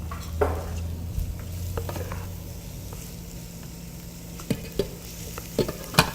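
Rice simmering in soy sauce and vinegar is stirred in a pan, giving a faint low sizzle under scattered soft scrapes and light utensil taps that grow a little more frequent toward the end.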